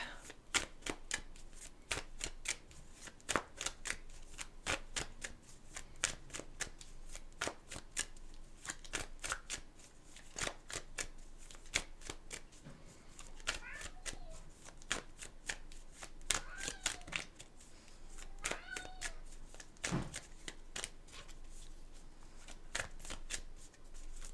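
A vocab deck of cards being shuffled, with repeated crisp riffling and flicking bursts throughout at close range over a quiet room, with faint voices and a few short tonal sounds in the background.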